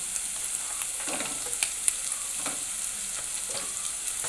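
Hot oil sizzles with scattered small pops and crackles as mustard seeds splutter, steady and close with no talking.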